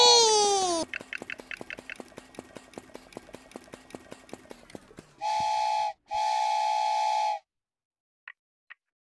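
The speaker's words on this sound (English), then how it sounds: "The train is going really fast." A LEGO Duplo toy train toots a few short whistle blasts, then two long steady electronic whistles, after a rapid clicking rhythm and a brief chime at the start.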